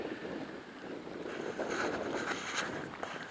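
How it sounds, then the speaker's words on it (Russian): Steady east wind builds over water during a carp and zander fishing outing, making a continuous breathy rush with mild gusts and a faint wash of small waves, and no one speaking. "Ветер, сами видите, потихоньку раздувается."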